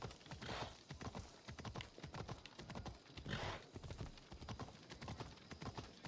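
Horse hooves clip-clopping in a video game, a fast regular gallop of close, crisp hoof strikes continuing throughout, with a couple of brief breathy whooshes riding over the rhythm.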